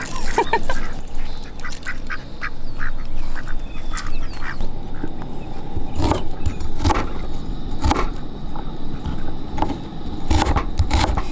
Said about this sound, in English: The duckies are gonna come say hello and cook with us, it looks like.